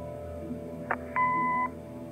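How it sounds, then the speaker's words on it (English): A short electronic blip is followed by a steady answering-machine beep lasting about half a second, clear and close in a quiet room, in the game Kathy Rain. "Leave a message after the beep."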